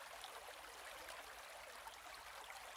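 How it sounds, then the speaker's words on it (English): An urban creek flows in a steady, even rush of water, close and continuous with no other distinct sounds. "as loud as the sounds are above, the flow of water dominates"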